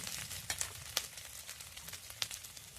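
Ginger, onion and garlic frying in oil with cumin seeds, a close crackling sizzle broken by several sharp spatula scrapes and pops, no talking.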